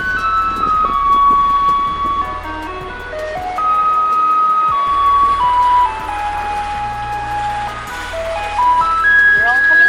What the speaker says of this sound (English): the garbage truck, 3 hours later, is still going